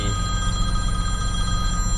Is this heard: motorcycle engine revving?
no